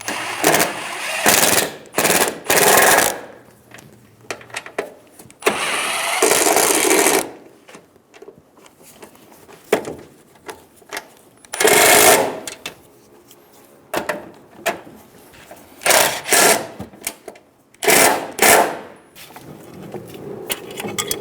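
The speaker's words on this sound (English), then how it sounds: "Using a 13mm socket, snug down the top nuts." Strut mount nuts on a 2010-2014 Subaru Outback being snugged down with a 13mm socket, loud rapid bursts of mechanical ratcheting or rattling that start and stop repeatedly with short quiet gaps, close up and without speech.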